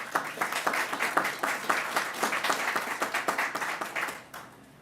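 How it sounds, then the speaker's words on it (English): An audience claps through a round of applause at a governor's public announcement in Buffalo, a dense patter of many hands that holds steady, then thins and fades out near the end, with no one talking over it. "Let's give them a round of applause."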